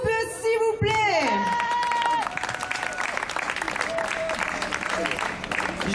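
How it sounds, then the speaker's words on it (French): Audience applause greets a woman slam poet at a 2012 poetry slam, a broad sustained wash of clapping and crowd noise lasting several seconds, with some sung or spoken voice tones rising over it at the start. "Je vous demande de bien vouloir applaudir"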